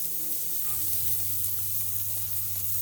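Skin-on meat pieces frying in hot fat in a village home kitchen, a steady close sizzle with a low hum underneath and no talking.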